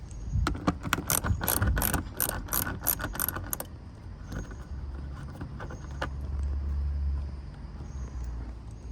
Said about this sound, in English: Now I have to go to the fender side and take this 4 bolts out as well.